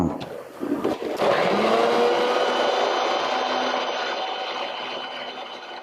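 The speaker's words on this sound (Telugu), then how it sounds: "మిక్సీ ఎట్లా పెట్టాలో కూడా తెలియదు" A mixer grinder whirs loudly and steadily after a short rattling start, its motor drone holding for several seconds.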